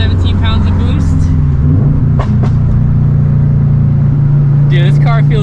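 A tuned Subaru WRX STI accelerates on boost, heard loud from inside the cabin as a deep engine drone that rises after a gear change and holds a strong, steady pitch.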